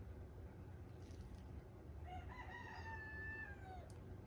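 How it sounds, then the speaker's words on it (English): Rooster crowing in the distance, one drawn-out call rising then falling over a steady low background rumble, faint and alone with no talk. "Chicken said hello."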